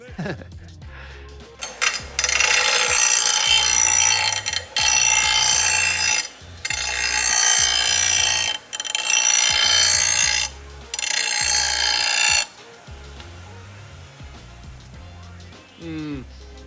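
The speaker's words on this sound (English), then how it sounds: "I thought just for fun I would try the bench grinder to take off a little bit of material to get the balance right" A bench grinder sharpens a lawn mower blade, with a steady low motor hum under loud, harsh grinding bursts. The grinding comes in several passes of a second or two, broken by short pauses, then stops while the motor keeps running.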